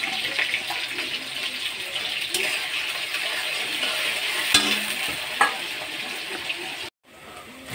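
Chopped onion hits hot refined oil in a wok and sizzles loudly and steadily, with a few sharp stirring clanks, then the sizzle cuts off briefly near the end.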